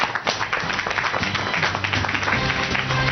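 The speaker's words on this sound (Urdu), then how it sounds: "اپنے ساتھ بھرپور تالیوں کے ساتھ استقبال کیجیے محترمہ نازنین شفا" A studio audience claps warmly to welcome a guest onto a talk show, a dense patter of hands rising and holding steady throughout.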